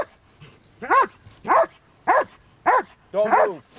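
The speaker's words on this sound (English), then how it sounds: "Get that dog off of me!" A police dog barks five times in quick, evenly spaced, sharp bursts, loud and close, with the last bark rougher and more drawn out.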